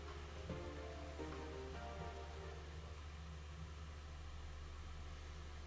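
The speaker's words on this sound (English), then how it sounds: "Good thing it looks like the rain will keep up all night." Steady rain falls at night in Persona 4, a continuous even hiss with soft patter and a low hum beneath, broken briefly by a few tonal game sounds early on.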